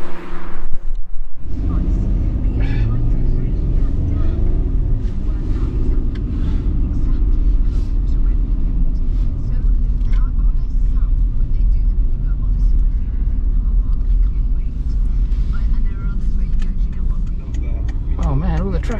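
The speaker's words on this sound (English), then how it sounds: "there's so much traffic in these little villages." Traffic passing through a small English village, loud continuous road rumble with vehicles whooshing by close at hand, steady throughout after a brief quieter start.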